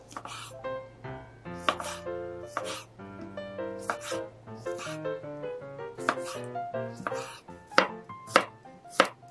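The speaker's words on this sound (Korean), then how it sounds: "토마토 한 개는 한입 크기로 자르세요" A knife cuts a tomato into bite-size pieces on a cutting board, about a dozen sharp, close chops in an uneven rhythm with short pauses between them and no speech.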